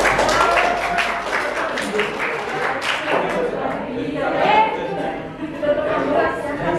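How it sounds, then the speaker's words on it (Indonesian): A classroom applauds a student group after its presentation, scattered clapping and chatter with voices talking over it, fading in the second half. "Tepuk tangan untuk kelompok 5"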